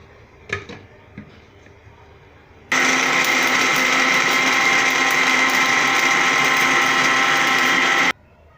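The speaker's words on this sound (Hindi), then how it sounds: "फारवा ही असांजा ब्लेंड थी विया आहिनि।" Electric blender whirring steadily as it purees washed falsa berries for juice, a loud continuous motor drone lasting about five seconds after a few faint clicks and knocks.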